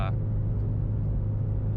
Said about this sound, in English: This car does have a very, very loud exhaust.